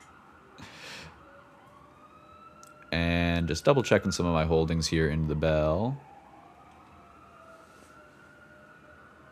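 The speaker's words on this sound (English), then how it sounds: "Sorry about the sirens." Emergency vehicle sirens wail outside, loud and wavering for about three seconds before cutting off, while someone talks quietly over them before and after.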